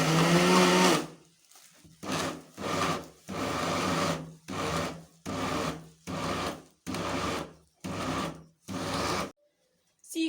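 Kitchen grinder blending ginger-garlic paste, onion and gram flour for seekh kebab, running in about nine short pulsed bursts after one longer run, with brief silences between each burst.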